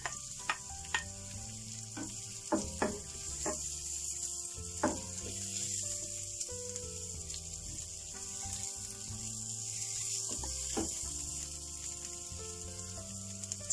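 Garlic and red chili sautéing in a pan make a steady fizzing sizzle, broken by scraping stirs and light clinks of a utensil, close and continuous with no talk.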